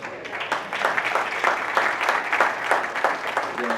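An audience applauds at the close of a barbershop tour event, a dense, continuous patter of many hands clapping at moderate volume, steady throughout with slight swells.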